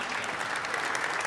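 Audience applause at an Ooredoo launch event in Barcelona, a steady wash of many hands clapping, even and sustained throughout without a break.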